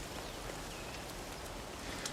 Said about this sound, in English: You can hear the rain in the distance.